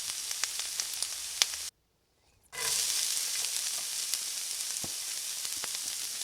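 Masala with garlic paste frying in a pan before keema goes in, giving a steady close sizzling hiss with faint pops and ticks; it drops out briefly and then carries on.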